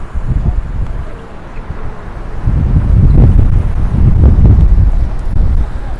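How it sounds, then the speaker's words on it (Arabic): Strong wind buffets the microphone on a beach along the Martil corniche in Morocco, a loud, continuous low rumble that surges and swells in gusts, heaviest through the second half, with no talking. "الرياح شديدة يا جماعة."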